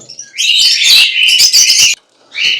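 Pineapple and green-cheeked conures at the Mirpur bird market in Dhaka, giving loud, harsh chattering calls in a dense burst, a brief pause, then another call, with no talk.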